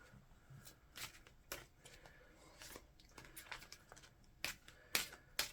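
A deck of oracle cards is shuffled at a tarot reading, soft close riffles and slaps arriving in irregular bursts over quiet room tone, with no speech.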